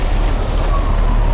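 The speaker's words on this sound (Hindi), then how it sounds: "जिस प्रकार से बारिश हो रही है" Heavy rain pours down along the Jammu-Srinagar National Highway as a loud, dense, unbroken hiss with a low rumble underneath, steady throughout and without voices.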